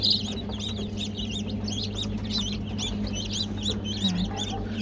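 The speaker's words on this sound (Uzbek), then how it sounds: "Mana bu sariq jo'jalar sizga." Yellow chicks cheep in a steady stream of rapid, repeated high peeps while hens cluck softly underneath, all fairly close, with a low mechanical hum running steadily in the background.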